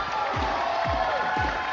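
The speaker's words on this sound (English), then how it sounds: "Crowd's going pretty wild." A large crowd at the Detroit Pro Show bodybuilding Classic Physique finals roars and cheers in a steady dense wash of noise, with low thumping pulses underneath.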